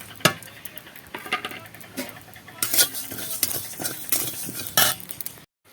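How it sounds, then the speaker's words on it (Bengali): Whole spices are fried together in a kadai for a Bengali raw mango pickle: a spoon stirs and clanks against the pan in irregular bursts over a light sizzle, ending in a brief silence. "এবার বাকি মশলাগুলো ভেজে নেব একসঙ্গে"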